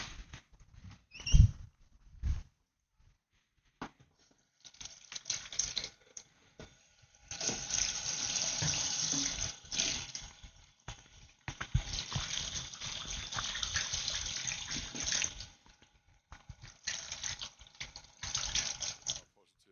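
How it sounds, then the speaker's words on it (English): Water running from a tap while hands are washed at a sink, a steady hiss that starts and stops in long stretches after a few knocks and handling noises. "I'm gonna go wash my hands."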